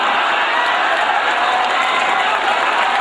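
A mushaira audience at a poetry gathering in Wardha in 2009 breaks into sustained applause, a dense, loud wash of many hands clapping with some crowd noise mixed in, steady throughout.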